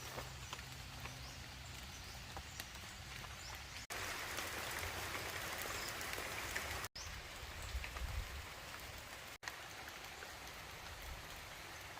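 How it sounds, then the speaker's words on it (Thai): Steady rain pours down in a storm while foraging for termite mushrooms in rural Thailand, a dense continuous hiss of drops on surfaces and foliage that swells louder partway through, with no voices. "เบิ่งฝนก็ เริ่มสิหนาเม็ดขึ้นเรื่อยๆด้วยครับ"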